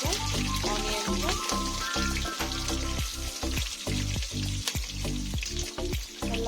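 Onions and green chilies frying in oil in a pan for festival-style white kushka, a loud, busy crackling sizzle with bursts of spattering and the occasional scrape of stirring.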